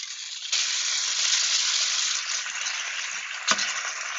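Spätzle dropped into hot oil on a gas stove, bursting into a loud, steady frying sizzle with a sharp clink partway through.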